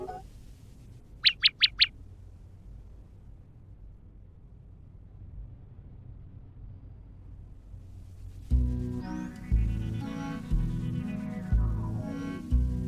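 A bird in the Black Beacon video game gives a quick burst of four bright chirps close by, over a quiet low hum. Deep rumbling ambient music swells in afterward.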